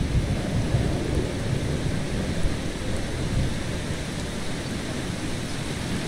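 Rain pours steadily with rumbling thunder in the video game Eastshade, a dense, loud and unbroken wash of storm noise with no voices over it.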